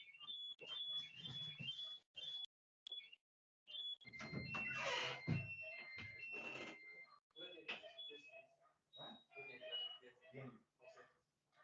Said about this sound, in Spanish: se activó la alarma de mi auto